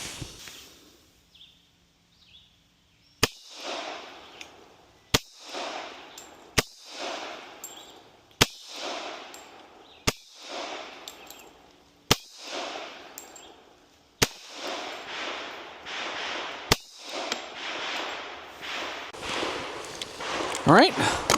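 Sharp gunshots from a Tisas Raider 1911 pistol on a shooting range, about eight evenly spaced loud cracks roughly every two seconds, each followed by a brief ringing decay, with a few softer handling noises before the first shot.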